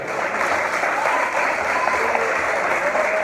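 A church congregation applauding at a communion service and deacon ordination, dense continuous clapping close and loud for the whole stretch, with a faint voice or tone faintly audible under it.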